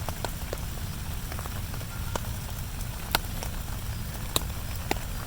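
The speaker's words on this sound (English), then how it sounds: "if I'm stuck under a tarp in the rain, I doze off" Rain patters steadily on a taut tarp overhead at Tucker Hill, a dense soft drumming with occasional sharper drips standing out, no voices.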